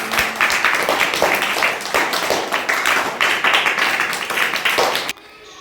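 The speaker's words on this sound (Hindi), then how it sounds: "तालियां बजाओ जोर से" Children clap loudly in a classroom setting, a dense rhythmic burst of claps that stops abruptly near the end, leaving a quiet room.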